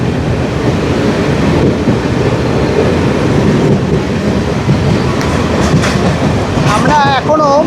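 Passenger train running through Murshidabad district at night, heard from inside a nearly empty carriage: a loud, continuous rumble with rattling wheel beats and a few squeals near the end.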